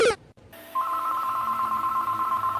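Landline telephone dialing tones: a short burst of tone pulses at the start, then a steady sustained tone after a brief gap, clear and alone with no talk.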